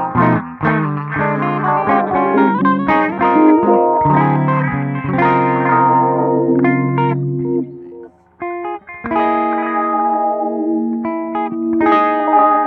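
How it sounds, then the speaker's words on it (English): An electric guitar runs through a Line 6 POD Go echo delay with filter sweeps, playing loud sustained chords and single notes whose repeats pile up and shift in tone, with a short gap before the playing resumes. "I've never really given a lot of thought to like filter sweeps on Echoes"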